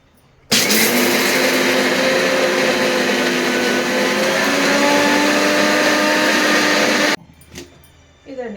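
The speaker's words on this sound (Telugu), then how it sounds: "పల్లీలది మిక్సీ రుబ్బుకుందాం" A mixer grinder grinding peanuts roars loudly and steadily for several seconds, then cuts off abruptly, leaving faint clinks and rustles.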